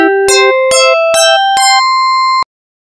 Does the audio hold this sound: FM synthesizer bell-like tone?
yes